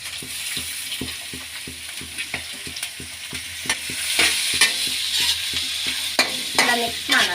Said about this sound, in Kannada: ಈಗ ಈರುಳ್ಳಿ ಸೇರಿಸ್ಕೊಳ್ಳೋಣ.